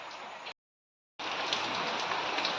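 Heavy rain pours down over a rice paddy field, a dense steady hiss interrupted by a short silent gap before resuming just as strongly.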